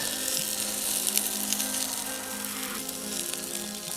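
Breakfast at a campsite sizzles steadily in a pan as food begins to stick to the bottom, a constant close frying hiss with faint crackles throughout.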